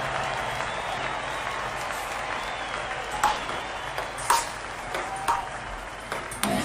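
A virtual crowd in the Kinect Sports video game applauds steadily in continuous clapping, with a few bright pings from the game cutting through.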